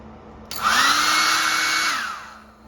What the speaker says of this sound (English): your hand dryer, which I'm gonna demonstrate real quick